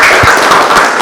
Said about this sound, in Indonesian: kasih tepuk tangan buat semuanya